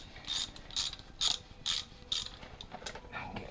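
Socket wrench ratcheting on the cylinder head of a Land Rover 300tdi engine, five crisp evenly spaced clicking bursts followed by a few quicker, softer ratchet strokes, close and clear.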